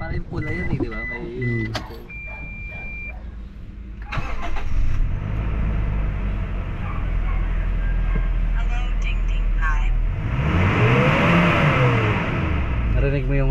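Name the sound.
Toyota Innova diesel engine revving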